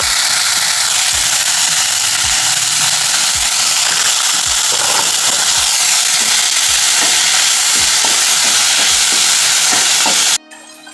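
Chopped tomato sautés with salt in a hot pan for a fish pollichathu masala, giving a loud, steady sizzle. Regular scraping stirs break through the sizzle about once a second before it cuts off abruptly near the end.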